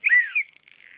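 A cheap pocket survival whistle gives a short, shrill blast with a slight warble, then a second brief toot that trails off into a faint, fluttering tail, close and alone with no talk.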